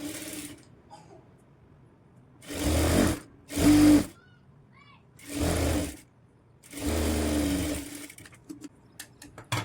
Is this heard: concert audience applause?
no